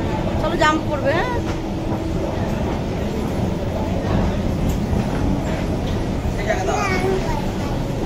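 A passenger train runs after boarding at Bardhaman, its steady rumble and wheel clatter filling the carriage while people talk nearby.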